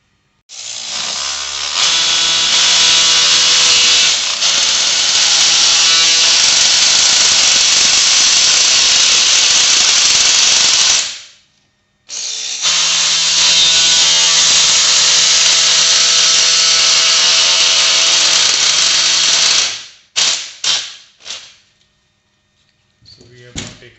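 A powered bone saw makes the distal femoral cut on a dry bone model during practice total knee replacement: a loud, steady high whine runs about ten seconds, stops briefly, runs again, then ends in a few short bursts.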